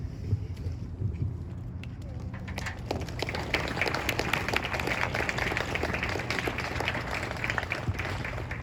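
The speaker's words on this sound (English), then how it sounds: "Let's give them another round of applause, please" Audience applause after a fall orchestra concert, a steady dense wash of clapping from a large crowd that swells after the first few seconds and holds loud and continuous to the end.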